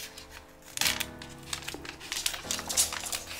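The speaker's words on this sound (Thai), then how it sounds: "เดี๋ยวเราก็จะมาลองแกะถุงกันดู" A plastic bag of Versele-Laga Complete Cuni Adult rabbit food being torn open, with close crinkling and rustling that comes in uneven bursts and includes some sharper crackles, no talking.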